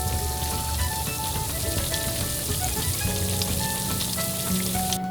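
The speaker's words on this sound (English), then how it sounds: "at the end, you just fry them in a pan" Plantain empanadas filled with milk custard fry steadily in oil in a pan, a dense, even crackle and sizzle throughout with no voices.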